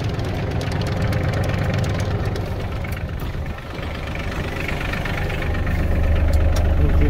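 Iseki Geas 33 tractor engine idling and running steadily nearby, a continuous low rumble with a slight knock that dips briefly midway, then swells a little louder toward the end as gears are shifted.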